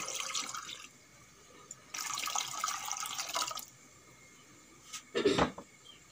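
Water pours into a pot fitted with a stand, ready for steaming hilsa fish packed in a tiffin box: two runs of splashy pouring separated by quiet, then a short sharp clatter near the end.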